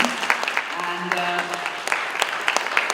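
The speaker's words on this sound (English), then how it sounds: "So big round of applause for all of them." Audience applause at a FICCI FLO ladies' event, a steady wash of clapping from a crowd that carries on throughout, with some sustained tones and voices faintly underneath.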